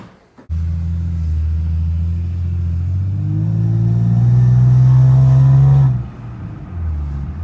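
A car engine fitted with a ported intake manifold and a big throttle body starts up and runs loudly nearby, its steady rumble rising in a long rev before dropping back to idle.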